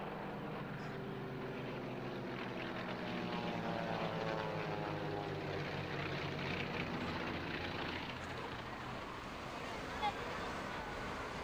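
A biplane with 1,000-horsepower engines performs at a British air show. A faint, distant propeller drone swells and shifts in pitch as it passes, with a steady buzz throughout.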